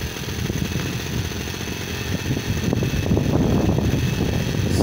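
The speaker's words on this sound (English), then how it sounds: "The engine will start really easily as it's all set to go." Live diesel engine on a model locomotive running just after a cold start, a steady mid-pitched chugging idle with rapid firing pulses that grows slightly louder, outdoors in wind, no voices.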